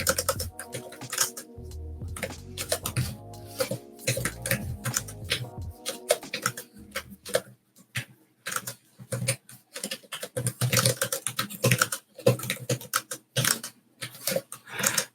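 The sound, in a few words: typing on a ThinkPad keyboard with an Android tablet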